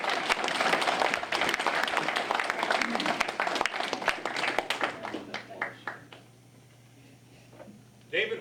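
An indoor audience at a Holland Club submarine veterans' ceremony claps loudly for several seconds before the applause thins to scattered claps and fades into quiet, with a brief burst of noise at the end.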